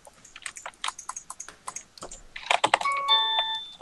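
A doorbell chimes with a bright, sustained ding-dong tone near the end, preceded by a rapid run of computer keyboard clicks during a Minecraft gaming session.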